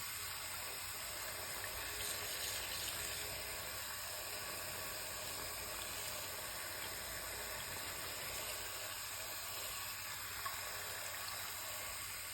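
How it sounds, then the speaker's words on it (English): Tap water runs steadily into a sink while mop heads are rinsed, a constant faint hiss and wash that carries on for about twelve seconds with no talk. "I'm filling up the sink again, but also using the running water to rinse"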